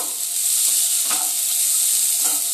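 Raw peanuts fry in a pan with a loud, steady, close sizzling hiss, broken by a couple of soft stirring scrapes.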